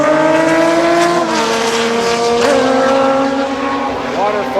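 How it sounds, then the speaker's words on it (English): Race cars run on a track with engines revving and sweeping in pitch as they pass, a loud steady drone of several motors heard at some distance with someone talking over them. "Race cars behind you."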